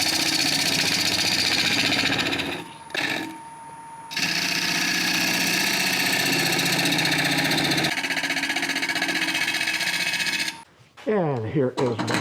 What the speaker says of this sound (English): I'm going to start off with a little bowl gouge just to get rid of some of this wood